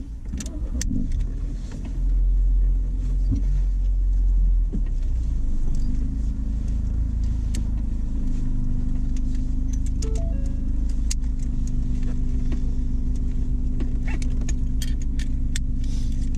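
An autocross race car's engine idles with a steady low rumble, starting up after a couple of seconds of faint clicks and settling into an even, continuous drone.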